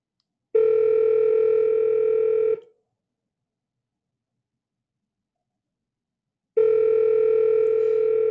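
An outgoing telephone call rings out through a calling app: two long, loud electronic ring tones about two seconds each, separated by a long silent gap, with no voices.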